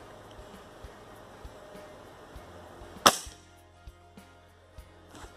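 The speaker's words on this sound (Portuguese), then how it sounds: "Vou tentar um disparo nessa tampinha de garrafa aí a 38 metros" A single sharp crack of a PCP air rifle fired outdoors at a bottle cap target about 38 metres away, loud and abrupt, with quiet ambience and faint scattered ticks before and after.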